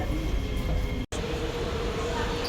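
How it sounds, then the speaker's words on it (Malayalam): A train rumbles and roars steadily at Tanah Merah station in Singapore, a loud, continuous, close mechanical noise with a single brief dropout. "ചാങ്കി എയർപോർട്ടിലോട്ടുള്ള ട്രെയിന് വേണ്ടി വെയിറ്റ് ചെയ്ത് നിൽക്കുകയാണ്"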